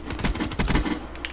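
Gorgon gun firing in Call of Duty Black Ops III, a quick burst of several heavy, evenly spaced shots, loud and close, ending in a brief tail.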